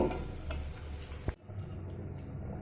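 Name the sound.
sweet nikuti balls frying and simmering in sugar syrup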